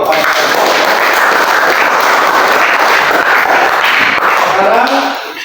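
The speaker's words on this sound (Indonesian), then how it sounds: "tepuk tangan dulu kepada" Clapping from a group at a Christian religious education class, dense and sustained for about five seconds before tapering off, loud and close.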